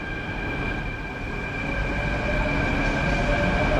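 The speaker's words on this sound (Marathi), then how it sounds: "मेट्रो सुटलेली आपली गेलेली आहे" A Mumbai metro train pulls away near the Airport Road station, heard from on board as a steady rumble with a faint whine that grows slightly louder as it gathers speed.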